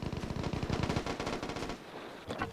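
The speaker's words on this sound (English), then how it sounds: "some gunshots over there" Video game gunfire in Vigor, a rapid machine-gun burst up close followed by a few scattered single shots, no talking.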